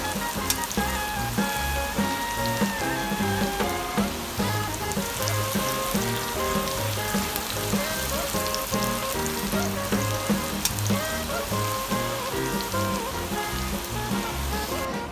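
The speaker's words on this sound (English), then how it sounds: "even when it's out of the oil, it still keeps frying and then it burns" Sliced onions fry steadily in hot oil while being browned until crisp, a dense, continuous sizzle and crackle heard close up, with no talking.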